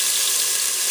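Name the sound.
tomato paste frying in oil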